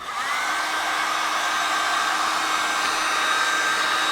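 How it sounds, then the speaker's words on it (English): A heat gun blows steadily on a welded teak deck panel, softening the seams so they lie flatter; a continuous close, loud airy hiss with a whining tone holds evenly throughout, with no talking. "we can use the heat gun just to soften them and allow them to lay a little flatter"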